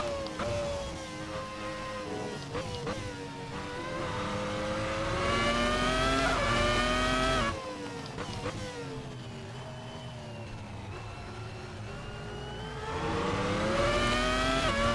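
A classic race car in the racing game Assetto Corsa revs hard through the gears, its engine note climbing and dropping with brief shift breaks, loud and close, building strongly toward the top end with occasional tire squeal, no talking.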